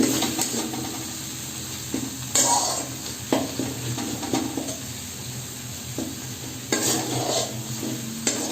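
A steady sizzle of spices and chilli powder frying in oil for mixed dal tadka, broken by repeated scraping strokes of a spoon stirring the pan. No voices.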